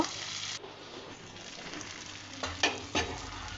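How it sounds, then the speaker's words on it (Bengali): A dried fish mixture fries in a pan with a continuous close sizzle, punctuated near the end by a couple of sharper scraping stirs. "সবগুলো একসাথে খুব ভালোভাবে আমি ভেজে নিব।"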